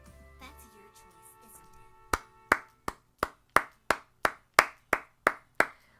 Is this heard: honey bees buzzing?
no